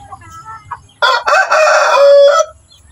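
A rooster in a chicken breeding pen gives a loud, close crow lasting over a second, preceded by soft clucks and low background noise.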